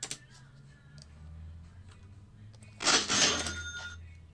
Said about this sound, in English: Lots of cash registers